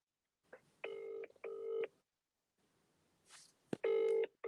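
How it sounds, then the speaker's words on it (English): A phone rings with an incoming FaceTime call: bright, steady electronic tone bursts in a repeating pattern, two pulses, a short pause, then another, with a brief rustle and knock in between. "I'll get him on FaceTime if possible"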